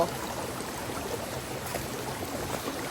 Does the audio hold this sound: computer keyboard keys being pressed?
no